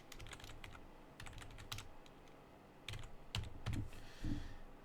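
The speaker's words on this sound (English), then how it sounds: "if I wanted to also add a person's name here, I could type it in, Derek Smith" Quiet, close keystrokes on a computer keyboard come in short irregular runs of taps with brief pauses, entering a name, with no talking.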